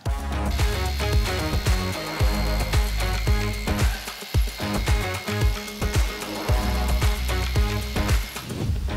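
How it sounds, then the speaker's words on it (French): A Hikoki DH3628DA rotary hammer chisels into a chunk of concrete, a loud, dense, continuous hammering rattle with rapid impacts and harsh grinding texture, close and without talk. "je vais venir monter un burin, c'est pas forcément le plus adapté, et je vais m'attaquer à un morceau de béton"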